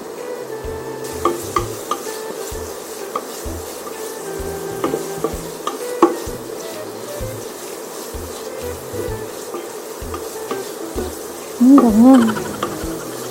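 Onion and ginger sautéing in a pan for chicken tinola, a steady sizzle under repeated stirring scrapes, with a brief spoken word near the end.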